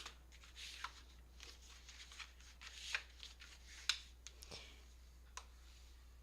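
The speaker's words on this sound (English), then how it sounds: "you just fold them in half and burnish them" Paper pages are folded in half and the creases burnished, heard as faint, close, scattered rustles, taps and brief rubbing strokes in a quiet room.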